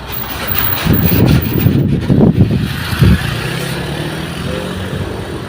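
A truck passes along a village road in rural Java, a loud rumbling engine swelling and fading over several seconds with bursts of nearby traffic noise.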